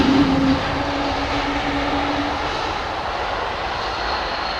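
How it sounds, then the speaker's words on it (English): Airbus A380 airliner taxiing out at Johannesburg airport, a steady distant jet engine rumble and hiss with a brief tonal whine at the start, continuous and moderately loud. "BJ Krishnan flew on this same A380, that 380, the one that's taxiing out now"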